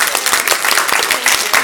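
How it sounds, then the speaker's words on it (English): Audience applause for a circus-arts event host, a dense wash of clapping hands from a crowd filling the whole short moment at steady, fairly loud level. "Give her a big round of applause."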